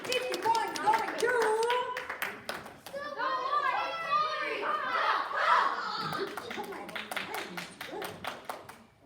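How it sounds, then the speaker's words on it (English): Applause and clapping from a classroom of students for a student presenter, a burst of hand claps with children's voices and chatter mixed in, fading as speech takes over. "Let's give her a big round of applause, guys"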